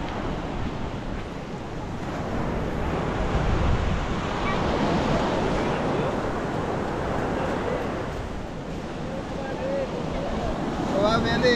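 Strong ocean waves surge and wash continuously along the coast at Infanta, Quezon, during low-pressure weather, a steady rushing roar mixed with wind buffeting the microphone.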